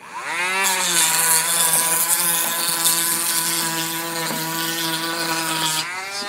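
A small power tool fitted with a little sanding wheel spins up to a high, steady whine as it grinds down cork roadbed. The whine holds loud and continuous for several seconds, then winds down at the end.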